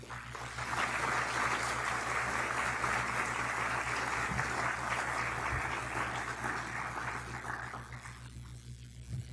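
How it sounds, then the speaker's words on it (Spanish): Warm applause from the audience at an international Cervantes colloquium welcoming historian Dr. Alfredo Alvar, a steady broad wash of clapping sustained for about eight seconds before tapering off, alone without speech. "Un cálido aplauso al doctor maestro Alfredo Alvar"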